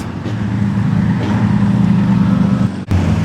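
National 4's speedway race cars at Kingaroy Speedway, a loud sustained engine roar from several cars at close range, with a sudden dip and gear-change break near the end.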